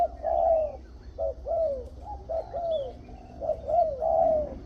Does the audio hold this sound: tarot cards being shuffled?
no